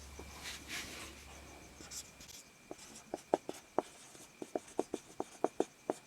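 Chalk or pen taps and strokes against a board while a trigonometry lesson is written out, quiet scratching at first, then a run of crisp, rhythmic ticks close by; a teacher speaks softly early on.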